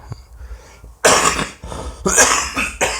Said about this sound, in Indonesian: Sorry teman-teman ya, batuk lagi